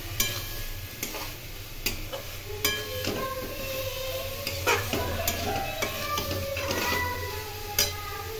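Jackfruit curry sizzles in a pan with oil, spices and a little sugar while a spoon stirs it. Steady frying hiss sits under repeated scraping strokes against the pan, close and continuous.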